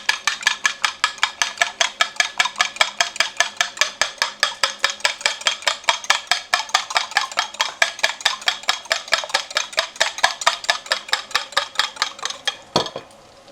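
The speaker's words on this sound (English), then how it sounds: "excuse me while I beat my eggs" Eggs whisked briskly in a bowl, a steady, rapid run of clinking strokes, about five per second, lasting over twelve seconds, close and loud, ending with a final knock.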